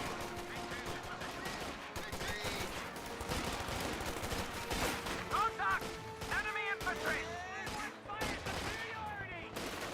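Gunfire from a firing line of U.S. forces in the Company of Heroes 2 strategy game, scattered rifle and machine-gun bursts crackling under someone talking continuously.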